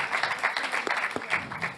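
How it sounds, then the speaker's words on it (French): Applause from an audience at a corporate conference, a short burst of moderately distant, crowded clapping with some voices underneath. "On peut applaudir, tout à fait."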